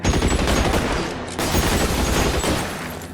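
Dense, loud gunfire from a shootout in L.A. Noire, a continuous rattle of overlapping shots with a brief dip midway before the barrage resumes.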